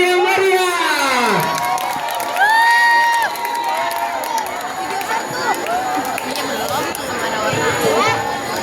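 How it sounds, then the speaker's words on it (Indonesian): A school audience at a junior high arts performance in Jakarta cheering loudly, with children shouting and excited whoops rising over crowd noise, some clapping mixed in, and chatter throughout. "Beri tepuk tangan yang meriah."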